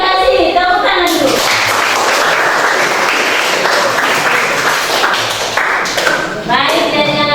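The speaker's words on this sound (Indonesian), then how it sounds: "Tepuk tangan dulu." Classroom applause from a group of students, loud close clapping that starts after a brief spoken line, runs for about five seconds and fades as a voice resumes talking.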